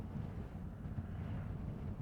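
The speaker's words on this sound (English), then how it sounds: "Quite windy today." Strong gusty wind buffets the microphone at a roadside motorcycle racing circuit, a steady low rumble with no voices.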